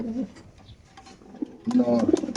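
Grizzle racer pigeons for sale coo softly near the end, a low throaty call rising out of a quiet room.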